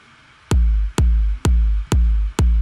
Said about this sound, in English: I have the kick, which is pretty simple. Sounds like this.